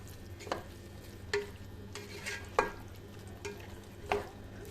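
Vegetables and chicken being stirred and fried in a pan. Low sizzling runs under five or six distinct spoon scrapes and taps spaced about a second apart.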